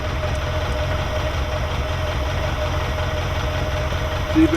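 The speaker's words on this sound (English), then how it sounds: "increase the idle speed up to about 850-900 RPM" A Ferrari 308 engine idles steadily with a low, even rumble and a faint mechanical hum, close by and continuous throughout.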